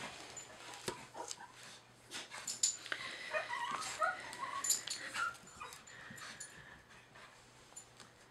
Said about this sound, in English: The dogs have something to say about this, apparently.